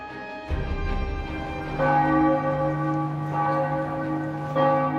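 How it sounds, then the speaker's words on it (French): Large bells of Amiens Cathedral ring noon in a slow, steady sequence of resonant strikes, each tone swelling and overlapping the lingering hum of the previous one. "les cloches de la cathédrale d'Amiens commencent à sonner les 12 coups de midi"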